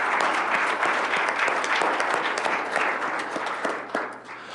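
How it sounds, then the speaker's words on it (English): Applause from an audience at a school business meeting, a full continuous wash of many people clapping that holds steady and starts to thin out near the end. "if we could please give them a round of applause"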